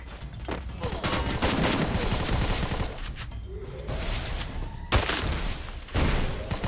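Gunfire in the Free Fire battle royale game, dense bursts of automatic shots rattling almost continuously with a brief lull, loud and close, under excited talk.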